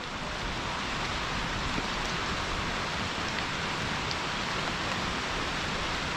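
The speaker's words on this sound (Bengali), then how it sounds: "এখানে প্রচুর বৃষ্টি হচ্ছে" Steady heavy rain pours down without a break on a hilltop near Napittachora waterfall, Sitakunda, a dense, even hiss of drops striking surfaces nearby.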